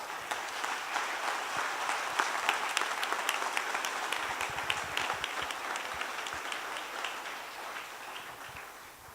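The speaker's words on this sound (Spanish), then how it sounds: "¿Le puede dar un aplauso a nuestro Dios?" A church congregation gives a long, steady round of applause during a Sunday service, dense clapping from many hands sustained throughout at moderate loudness with no speech over it.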